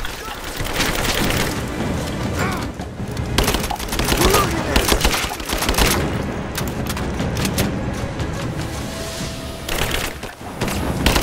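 Gunfire in the video game Rise of the Tomb Raider during a fight in the mines: dense, sustained bursts of rapid shooting with booming impacts and shouted voices mixed in throughout.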